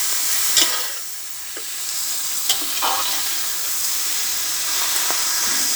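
Ingredients for a Bahamian dumpling soup, including a large heap of greens, frying in a pot, a steady close sizzle with occasional stirring scrapes and no voices.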